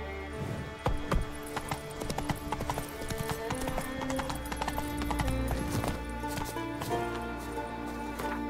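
Geralt's horse Roach trots in The Witcher 3, hooves clip-clopping in a steady rhythm with sharp, close hoof strikes over a background music bed, with no talking.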